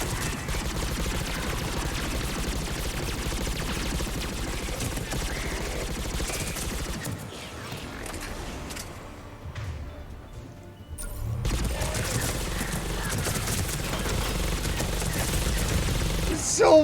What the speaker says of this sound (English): Now that's a gun.